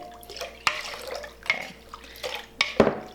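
Water-based fairy chalk dye being stirred into water in a small container, with soft liquid sloshing and several sharper clinks of a utensil against the vessel, close and quiet.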